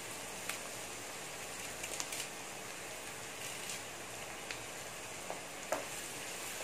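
Curry leaves and onions fry quietly in a pan with a soft, even sizzle and a few faint stirring clicks, heard alone at low volume.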